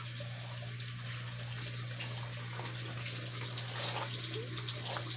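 Water runs steadily from a tap while egg is rinsed out of hair, a continuous close splashing wash over a low electrical hum, with no talking.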